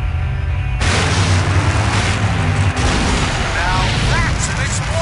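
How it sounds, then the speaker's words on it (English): A big explosion in the video game Full Throttle erupts suddenly into a loud, sustained roaring blast that fills the sound and rumbles on for several seconds. "Now that's an explosion, ladies and gentlemen!"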